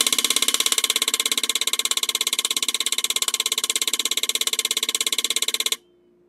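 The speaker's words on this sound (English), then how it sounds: "run the multi-spark firing consistency test, which runs 100 sparks at the simulated engine speed of 2000 RPM" A Model T ignition coil fires on an ECCT coil tester at a simulated 2000 RPM, a rapid, even buzz of sparks held loud and steady for several seconds before cutting off abruptly into near silence.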